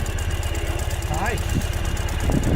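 A 2015 Ural motorcycle engine runs close by at a steady, throbbing near-idle with a knocking pulse, while a person talks briefly over it.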